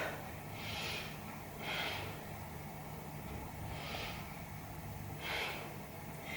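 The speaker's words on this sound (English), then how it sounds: "Take 3 big breaths" Slow, deep breaths during a yoga stretch, about four airy inhale-exhale swells over a steady background hiss, close and soft, with no talking.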